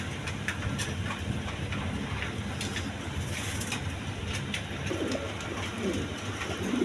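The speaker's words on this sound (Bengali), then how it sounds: "দেখেন খুব সুন্দর কবুতরগুলো" Pigeons coo softly at an outdoor pigeon sale, several birds together, under a constant hum of background noise and distant activity, with no clear talk.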